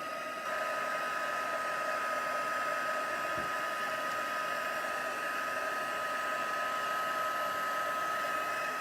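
A heat tool blows steadily as it melts embossing powder on a card, producing a constant, moderate fan-like whoosh with a faint tonal hum. One soft knock is heard partway through.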